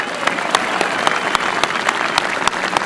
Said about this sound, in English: We applaud Martin McGuinness.